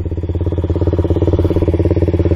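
A Suzuki LTZ400 quad's engine runs steadily nearby, a loud, even, rapid pulsing throb with a mechanical clatter on top, alone without speech.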